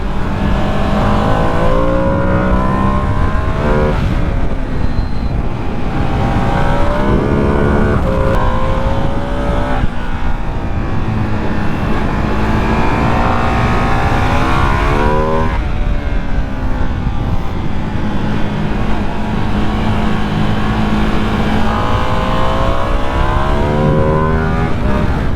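A 2025 Ducati Panigale V2S motorcycle engine roars loudly and continuously, its pitch repeatedly climbing and dropping through gear changes under heavy wind rush, close and dominant throughout.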